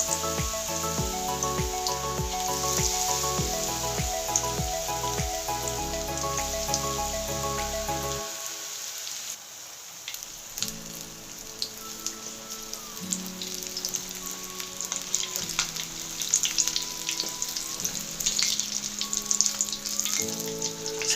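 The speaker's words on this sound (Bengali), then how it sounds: "সেকেন্ড ব্যাচটা ভেজে নিচ্ছি, ভেজে নিয়ে এগুলোও তুলে নেব।" A second batch of snacks frying in hot oil gives a steady, soft sizzle that runs throughout beneath louder background music.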